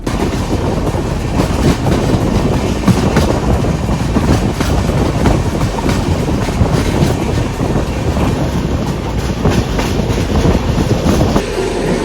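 A train, the Ernakulam Duronto, rolls slowly at about 20 km/h along the tracks with a continuous rumble and steady clacking of wheels, close and loud, with wind buffeting the microphone.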